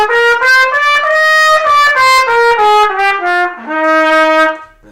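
A trumpet plays a rising and falling major scale of sustained, clear brassy notes, loud and close, with a final lower held note fading out at the end.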